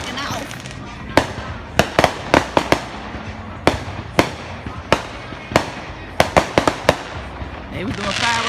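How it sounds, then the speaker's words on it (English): Fourth of July fireworks and firecrackers going off in a neighborhood, a string of sharp loud bangs and cracks at irregular intervals, some close together, over a low background rumble with people talking. "We got the ground show. We got the air show. We got the 4th of July cracking off."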